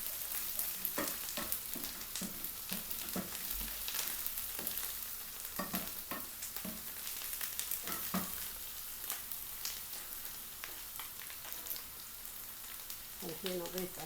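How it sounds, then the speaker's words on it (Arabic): Onion and green garlic fry in a pan with a soft, continuous sizzle, punctuated by light scraping and clicking as they are stirred, fairly quiet and close. "الحين ضفت الثوم الأخضر، شوفوا حطيته معاه عشان يتحمس."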